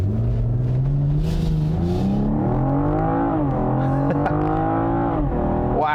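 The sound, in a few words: 2021 BMW M440i xDrive accelerating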